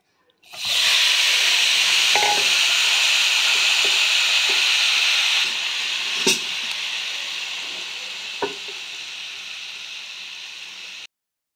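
Loitta fish (Bombay duck) drops into hot oil in a pan and erupts into a loud, dense, steady sizzle that eases slightly over time, with a few faint clinks, then cuts off abruptly.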